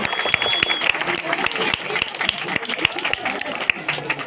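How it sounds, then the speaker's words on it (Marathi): An outdoor village crowd at a public puja and cricket prize event claps, a dense, steady patter of many hands close by with faint background murmur throughout. "जोरदार टाळ्या वाजवा"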